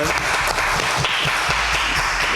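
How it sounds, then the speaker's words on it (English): An audience breaks into steady applause, a dense wash of clapping that holds evenly for a couple of seconds. "Give yourself a round of applause."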